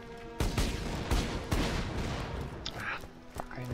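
Explosive weapon gunfire in Borderlands 2, several heavy booming shots at irregular intervals over a dense noisy background of battle.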